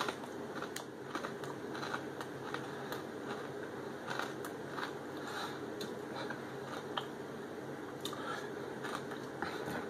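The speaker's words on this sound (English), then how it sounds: "It definitely has some good crunch." Lay's Tikka Masala potato chips crunch close to the mic in repeated crisp bites and chewing over a dense, steady background noise, with no talking.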